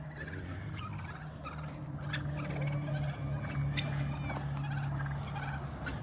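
Turkeys on a family farm gobble in short rattling bursts over a steady low background hum, several calls overlapping at moderate distance with no talk.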